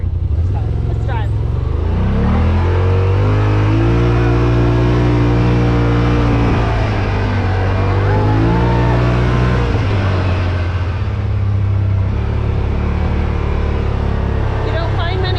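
A Yamaha RMAX 1000 side-by-side drives along with a steady, close engine drone that climbs and falls as the revs change, and faint voices sit underneath.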